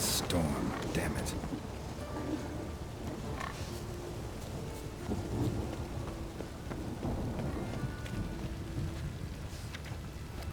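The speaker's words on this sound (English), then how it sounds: "A storm, damn it." Heavy rain and rumbling thunder from a thunderstorm in The Witcher 3: Wild Hunt, a steady loud wash of rainfall with low rolling booms, voices talking over it.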